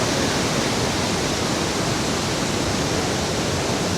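Li Phi waterfall on the Mekong in southern Laos, a dense, steady rushing roar of falling water, loud and unbroken throughout.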